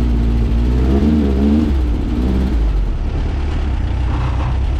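Snow buggy engine revving loudly and continuously while sliding in February snow, a close, rising and wavering motor roar throughout.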